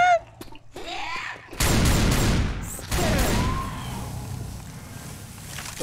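Bursts of explosions and gunfire from tanks in a video game, loud and chaotic, with heavy booms crashing in repeatedly over a rumbling background.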